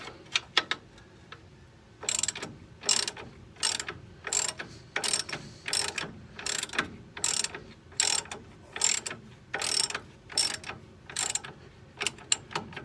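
A hand ratchet loosens bolts on car suspension during removal, producing repeated close bursts of rapid clicking in a steady back-and-forth rhythm with brief gaps between strokes.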